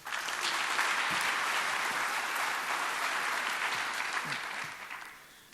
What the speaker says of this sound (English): And one final clap here for Janet,